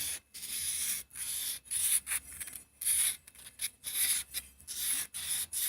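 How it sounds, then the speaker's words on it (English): Sandpaper twisted and rotated inside a Dillon powder measure housing gives repeated close, bright scraping strokes in bursts, with short pauses between them and no voices. "sand the inside. I rotate it while I'm twisting the sandpaper."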